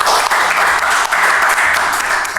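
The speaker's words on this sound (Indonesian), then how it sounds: "Oke, tepuk tangan dong" Audience applause, a loud dense burst of many hands clapping together, sustained throughout.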